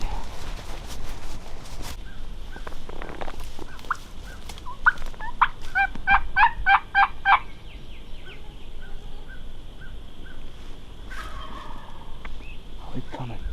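Wild turkeys gobble during a spring hunt in Kansas, two birds sounding off in sharp, rattling bursts at close to moderate range, with quieter rustling and outdoor background between the calls.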